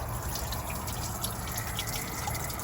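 Water drains steadily from an open engine drain plug on a V8 boat engine during winterization, a continuous close gurgling trickle and splash with no pauses.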